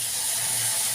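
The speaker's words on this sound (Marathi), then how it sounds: "मसाला छान तळून घेते मी मंद आचेवर" Spice masala frying in oil over a low flame for mutton sukka, a steady, close, bright hiss and sizzle holding evenly throughout the short moment.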